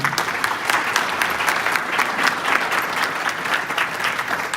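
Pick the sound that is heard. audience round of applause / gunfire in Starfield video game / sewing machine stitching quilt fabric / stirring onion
audience round of applause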